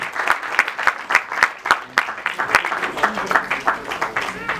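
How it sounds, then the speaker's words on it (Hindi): Applause at a film trailer launch event for Shortcut Safari, with loud, distinct individual claps near the microphone over a wider crowd, and a voice speaking intermittently. "एक बार जोरदार ताली होनी चाहिए, जोरदार तालियां साधना जी के लिए।"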